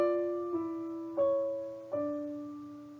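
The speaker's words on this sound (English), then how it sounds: "So it has a 7/6 suspension that resolves out to an octave" Counterpoint cadence played on a sustained keyboard-like instrument: two-voice chords change four times, a 7/6 suspension resolving to an octave, clean, moderately soft and unaccompanied.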